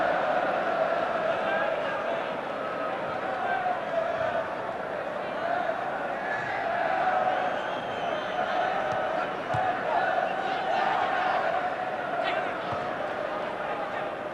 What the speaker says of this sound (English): The crowd trying to launch an England revival in the last quarter of an hour.